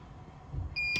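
A Challenger 580 control panel gives a short electronic beep at the end, a bright steady tone after a brief low rumble, close and clear.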